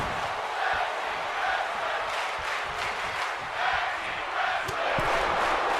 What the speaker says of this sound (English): And you hear the crowd here in Dallas.